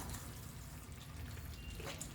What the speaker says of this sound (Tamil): ஜார் கழுவுன தண்ணி கொஞ்சம் ஊற்றிக்கலாம்.